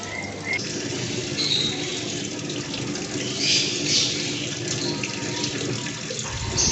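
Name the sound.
water filling the tub of a Sharp ES-M8500XT-SA washing machine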